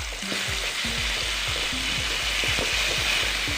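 Ginger garlic paste sizzles loudly in a hot pan for a palak paneer curry, with a steady hiss and repeated squeaky scrapes and clicks from stirring, close by and without talk.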